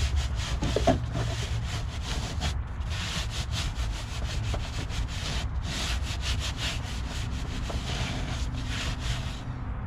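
A brush scrubs hard inside the wheel well of a Corvette C6, giving continuous close, gritty rubbing and scraping strokes in a rough, uneven rhythm.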